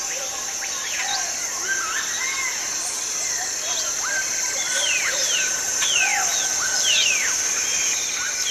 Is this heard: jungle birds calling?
yes